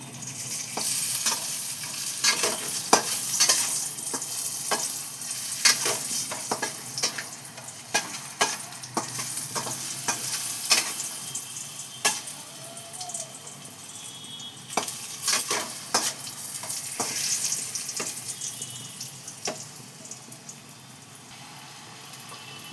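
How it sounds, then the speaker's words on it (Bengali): Potato pieces sizzle and crackle steadily in hot oil as they are fried and stirred for biryani. Scraping stir strokes break through the close, continuous frying hiss, with no talking. "দেখো, আলুগুলো একটু ভেজে নিচ্ছি আমি।"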